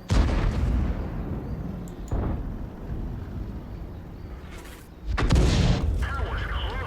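Artillery shots in the tank game World of Tanks, heard as a few heavy booms with rumbling tails over a steady noisy game background, with a louder blast near the end.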